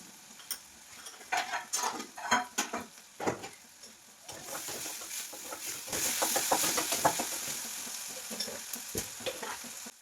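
Onions frying in a pan with salt, curry leaves and turmeric, opening with sharp spatula scrapes and clinks, then settling into a loud steady sizzle, close and with no talk.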